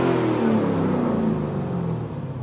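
A 2023 Lamborghini Urus S 4.0 V8 in Corsa mode revs with a deep engine tone that rises and then slowly eases off, heard from inside the car with no talking.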